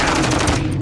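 Rapid machine gun fire in Call of Duty Warzone 2.0 DMZ on the Vondel map, a close, loud, continuous burst of shots.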